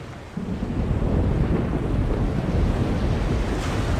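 A chaos storm in a fantasy adventure game: a deep, continuous roar of wind, crashing waves and rumbling thunder swells in after a brief quieter start and keeps churning loudly without pause.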